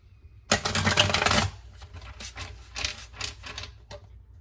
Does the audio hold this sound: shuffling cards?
yes